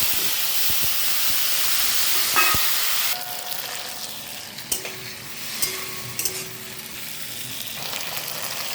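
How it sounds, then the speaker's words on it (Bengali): Panch phoron spices and chilli hit hot fish-frying oil, followed by chopped tomatoes, making a strong hissing sizzle that drops to a softer crackle, with a few sharp utensil knocks on the pan. "ওই মাছ ভাজা তেলের মধ্যে দিয়ে দিচ্ছি ফোড়ন, 5 ফোড়ন আর লঙ্কা।"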